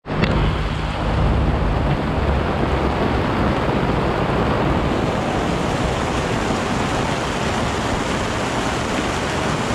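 Storm wind gusting over waves on Lake Champlain, a steady, loud, dense roar of wind and surf that holds without a break throughout, with no talking.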